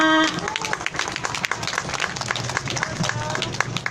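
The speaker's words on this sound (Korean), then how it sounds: "큰 박수 부탁드립니다" Applause from a crowd at the Wednesday demonstration in Korea seeking resolution of the Japanese military sexual slavery issue, welcoming a speaker to give a progress report; steady, dense clapping fills the whole stretch at moderate loudness.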